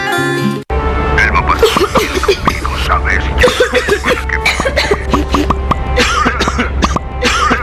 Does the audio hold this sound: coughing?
yes